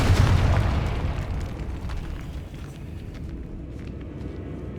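A Confringo spell blast in Hogwarts Legacy: a loud, deep boom at the start that decays into a long rumbling tail, with faint crackles above it.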